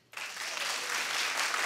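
Television talk show studio audience breaks into sudden clapping that starts sharply and swells into a sustained, steady round of applause.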